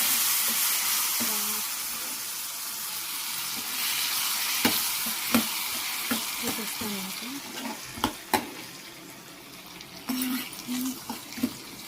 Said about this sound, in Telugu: ఇప్పుడైతే ఈ పోపుని తీసుకొచ్చి గోంగూరని తీసుకొచ్చి పోపులు వేయాలి